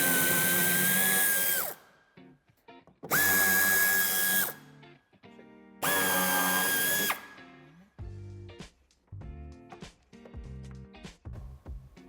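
A power tool spins out wheel arch screws on a 2017–2020 SEAT Leon III, three loud whirring bursts in a row, each with a rising motor whine, followed by clattering handling noises.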